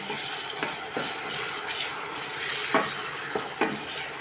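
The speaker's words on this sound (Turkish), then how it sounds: "Domatesimizi de biraz şöyle kavuralım." Chopped tomatoes sauté in a hot pan with a steady close sizzle, while a utensil stirs and scrapes through them in several brief strokes.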